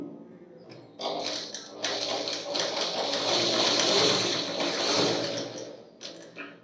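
A sewing machine runs continuously for several seconds stitching fabric for a continuous opening, a steady whirring mechanical drone that starts and stops abruptly, close and loud.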